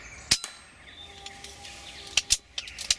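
An air rifle fired at a squirrel outdoors, a sharp snap near the start followed by a few more clicks and cracks, heard over faint background birdsong with no talking.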